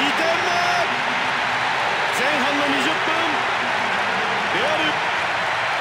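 A stadium crowd roars during a Real Madrid versus England match in the Winning Eleven 2010 football video game, a constant loud wash of cheering beneath continuous commentary.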